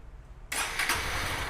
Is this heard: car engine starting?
yes